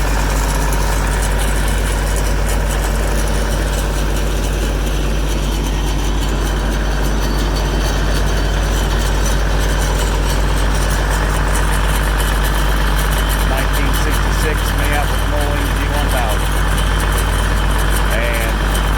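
A heavy diesel tractor engine, an old planting tractor, idles steadily with a deep rumble and constant hum for the whole stretch, close and loud.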